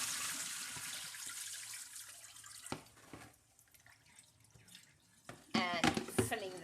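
Water sloshes and pours as a container holding aloe vera is emptied and refilled with fresh water, splashing and trickling in uneven bursts with quieter drips between, ending in a louder gush near the end.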